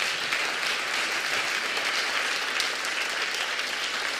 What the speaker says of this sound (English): Give him a big hand clap in the house.